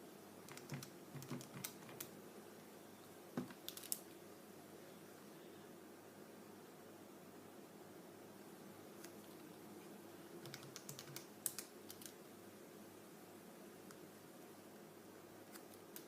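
A computer keyboard being typed on in short bursts of quiet, close key clicks over a faint steady background hiss, with pauses between bursts.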